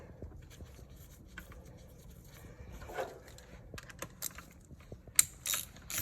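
Oil filter screen plug being tightened on a KTM 350 dirt bike on a lift: quiet, uneven ratchet clicks and small metallic taps, growing louder and sharper toward the end.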